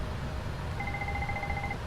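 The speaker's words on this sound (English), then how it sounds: "So that's the fire alarm." Steady two-tone electronic alarm in a flight simulator cockpit, signalling a right engine fire; the tone starts partway through and sustains evenly over a continuous low engine and cabin rumble.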